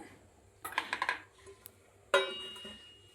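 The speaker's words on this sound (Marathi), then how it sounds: "आता मी याच्यावर ठेवते झाकण" A metal lid set down on a pot of cooking rice for chicken dum biryani gives a few close clinking and rattling knocks, then a sharper clank that rings briefly as it settles into place.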